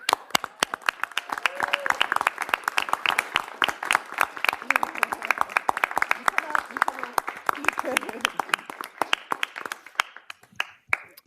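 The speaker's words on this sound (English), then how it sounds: "A round of applause for my good friend Tanae Darby." Applause and clapping from an audience at a city council meeting honoring a Neighbor of the Month, sustained dense hand claps lasting about ten seconds before thinning out to a few scattered claps at the end.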